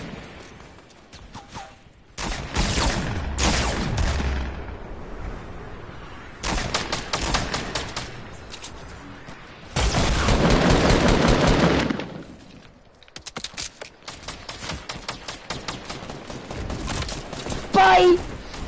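Repeated bursts of automatic gunfire in the video game Omega, long loud volleys separated by short pauses, with a player's voice mixed in among the shots.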